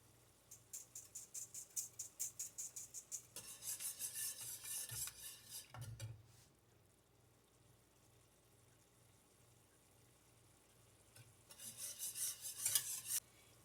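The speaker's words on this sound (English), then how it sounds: "Add it in a sieve, and you can get all the lumps out." Gravy thickener pushed and stirred through a mesh sieve for pot roast gravy, giving close, rhythmic scraping and rasping strokes in bursts, a quieter pause in the middle, then another busy stretch of brisk scraping.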